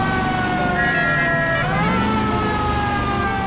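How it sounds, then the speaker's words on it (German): Emergency vehicle siren in the video game L.A. Noire, a loud wailing tone that rises and falls continuously over a rumbling engine, heard alone with no talk. "Interessante Sirene. Klingt auf jeden Fall ein ganzes Stück anders als die von der Polizei."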